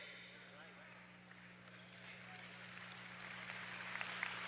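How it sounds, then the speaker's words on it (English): An audience applauds at a talk, faint at first and then building into a scattered patter of claps that grows steadily louder toward the end, with a speaker's voice faintly underneath. "I'm not asking for claps now, but thank you."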